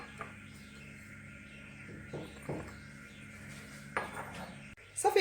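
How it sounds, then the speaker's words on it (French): A dish of eggplant and vegetable gratin is slid into a home oven, with clinks of metal and ceramic, a rack scrape and a louder clatter near the end over a low kitchen hum. "Voilà, je vais le mettre au four."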